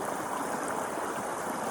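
River water flows in a steady, close rush of bright bubbling and splashing, continuous and even throughout with no voices.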